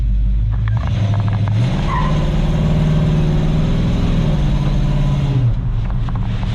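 A custom car engine swapped from an inline six to a V8 revs close by, its deep rumble climbing and falling through a couple of throttle blips before settling back to a steady idle.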